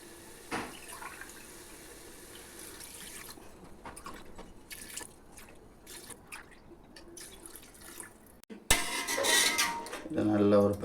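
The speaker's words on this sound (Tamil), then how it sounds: "இதில் இப்போ தண்ணி சேர்க்குறோம்." Water poured from a tumbler into a pot of rice and chicken for hotel-style chicken dum biryani, a near, splashing fill that swells loudly toward the end over quieter kitchen clatter.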